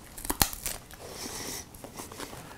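Pork cracklins from a picnic roast cooked on a Kamado Joe grill are bitten and chewed close up, giving sharp crisp crunches followed by softer crackling chews.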